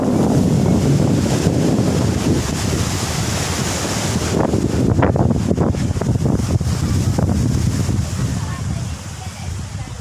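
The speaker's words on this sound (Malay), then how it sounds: "keadaan sangat berangin dan berkemungkinan akan berlaku ribut pada sebentar saja lagi" Strong wind buffets the microphone as heavy surf rolls onto a long beach at Batu Pahat, Johor, before a storm, a loud continuous roar of waves and gusts throughout.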